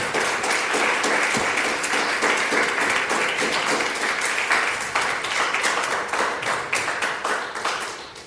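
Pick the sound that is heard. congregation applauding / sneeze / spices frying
congregation applauding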